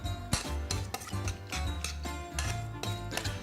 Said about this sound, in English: Give it a couple good stirs